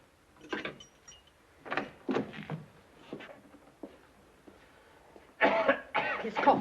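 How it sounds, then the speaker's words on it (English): A man coughs several times in short, hoarse bursts spread across the moment, fairly close and moderately loud, followed by a louder scuffling rush of noise at the end. "His cough is worse."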